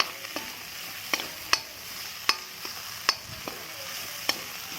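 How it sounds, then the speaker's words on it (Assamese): Ginger, garlic and chili fry in hot oil with a soft steady sizzle, broken by several sharp clinks of a utensil stirring against the pan at irregular intervals, close by and moderately quiet with no voices. "ভাজিব লগা আছে আদা নহৰুখিনি"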